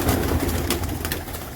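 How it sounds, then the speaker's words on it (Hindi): Pigeons in a breeding loft, their soft cooing and fluttering filling the space up close, steady and unbroken without a pause. "ये देखे ना, कबूतरों ने फड़फड़ाना शुरू किया हुआ"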